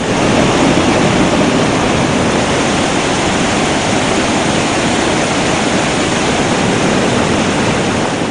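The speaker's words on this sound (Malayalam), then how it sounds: "പാറക്കെട്ടുകളിലൂടെ ആർത്തലച്ചെത്തുന്ന വെള്ളം ഷിറിയ പുഴയിലേക്കാണ് ചേരുന്നത്" Kambam waterfall in Kasaragod roars as water rushes over rocky ledges toward the Shiriya river, a loud, dense, unbroken torrent close by with no voices.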